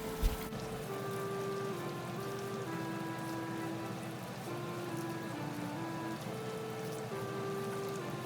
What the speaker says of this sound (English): to saute the prawn heads and shells